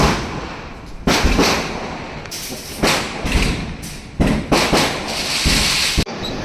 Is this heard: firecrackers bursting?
yes